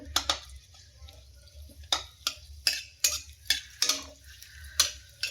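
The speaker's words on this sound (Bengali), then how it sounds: "সর্ষের তেল দিয়ে শুকনো লঙ্কা ফোড়ন দিয়ে দিলাম" Dried red chillies tempering in hot mustard oil, a soft crackle under a series of sharp spoon scrapes and clinks against the pan at irregular intervals.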